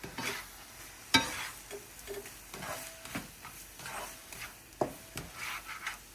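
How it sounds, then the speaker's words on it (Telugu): Maggi noodles with egg are stirred and mixed in a pan, quiet scraping and rubbing strokes with a faint sizzle and a couple of sharper knocks of the utensil against the pan. "ఇది బాగా మిక్స్ చేసేద్దాం"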